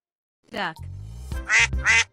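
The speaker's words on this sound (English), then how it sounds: "Duck." A duck quacks in several short, raspy bursts, close and fairly loud, with a voice speaking in between.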